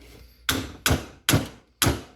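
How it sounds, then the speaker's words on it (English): Four sharp hammer taps seating valve guide seals on a small-block Chevy engine, evenly spaced about half a second apart, close and fairly loud, each ringing briefly before the next. "I just like to take a hammer"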